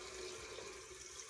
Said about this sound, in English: Crank on the cold water.